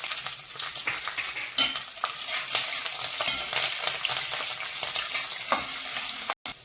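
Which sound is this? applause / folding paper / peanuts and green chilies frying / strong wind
peanuts and green chilies frying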